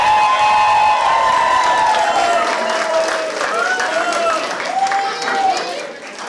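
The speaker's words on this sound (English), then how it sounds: "Let's give them another round of applause." Applause and cheering from the audience at a Marthoma Fest 2022 prize distribution, greeting the painting competition winners; steady crowd clapping fills the whole stretch with whoops and excited voices rising over it, tapering slightly at the end.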